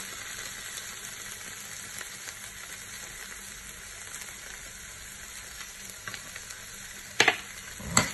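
Caramelized onion and honey sizzle steadily in a pan over low heat while being stirred, with a few sharp scrapes and clinks of the utensil toward the end.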